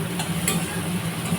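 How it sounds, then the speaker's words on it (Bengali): Onion frying in a pan while a spatula stirs it, a steady close sizzle with light scraping strokes and a faint background hum, brief and continuous. "দিয়ে এবার পেঁয়াজটা একটু ভাজবো"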